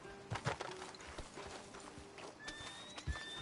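Horse hooves clip-clop in uneven beats in the video game Red Dead Redemption, faint and close, with a brief neigh and soft tonal game sounds mixed in and no speech.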